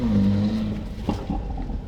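A passing car with a loud, droning exhaust: a steady low engine hum that fades and dips as the car goes by, close and unaccompanied by any talk.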